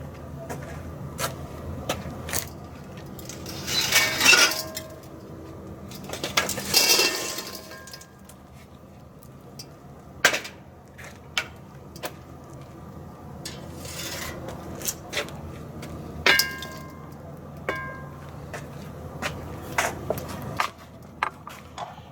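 Hot charcoal briquettes tipped from a Weber Rapid Fire chimney starter into a grill, heard as scattered clinks, scrapes and rattles with a couple of louder rushing tumbles, nearby and without talk.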